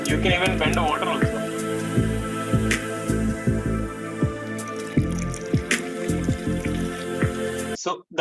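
A thin stream of water runs from a tap during a classroom electrostatics demonstration, making a steady pattering, dripping trickle throughout. A voice talks over it.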